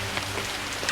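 Rain falls steadily in a film scene, a brief soft patter of drops on surfaces.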